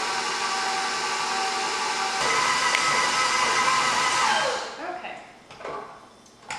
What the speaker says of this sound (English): you can do this by hand, but electric mixer is a lot easier